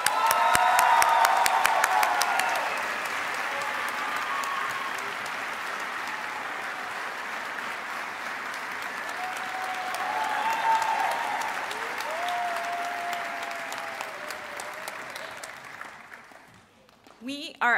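A graduation ceremony audience applauds a business school professor: sustained applause from a large crowd, loudest at the start, then steady with faint cheering before it dies away near the end.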